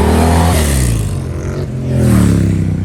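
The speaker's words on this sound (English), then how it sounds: "Miata's back. Miata's coming." A Mazda Miata revs as it passes at a car meet, its engine note rising and falling in pitch as it sweeps by, fairly loud and steady with no voices.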